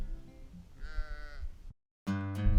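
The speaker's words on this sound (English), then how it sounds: "We have some sheep in the background." Sheep bleat in an open farm pasture, a wavering call in the middle followed by a second, louder and closer bleat after a brief silence, with a low rustling background.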